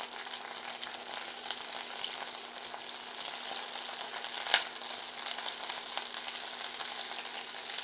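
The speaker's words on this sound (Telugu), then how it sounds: "ముందు కొంచెం కరివేపాకు వేసుకుందాం. కొంచెం ఫ్రై అవ్వాలి." Curry leaves frying in oil for a prawn fry, a steady soft sizzle close by with one brief pop midway, no talking.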